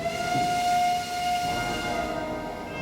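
A train rolling along its rails with a sustained high whistle or horn tone over a steady rumbling clatter, loud and close, fading slightly toward the end.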